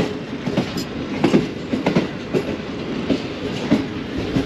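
The Green Line Express passenger train runs on rails near a junction, with a steady rumble and rhythmic clickety-clack of wheels over rail joints, heard from inside, continuous and fairly loud.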